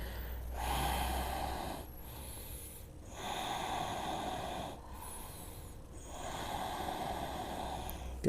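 Slow, deep breathing during a yoga hamstring stretch for runners: three long rushing exhales alternate with short pauses and softer inhales, close and fairly loud, with no talk over them.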